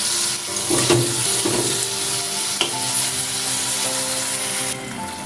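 Amra chutney with sugar is stirred in a pan, giving a continuous close sizzle with soft scraping stirs and occasional clinks throughout.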